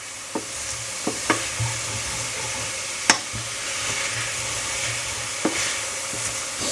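Chopped garlic sizzles steadily in a frying pan for a Spanish magro con tomate tapa, a continuous crackling hiss broken by a few sharp clicks of a utensil stirring and tapping the pan, with no talking.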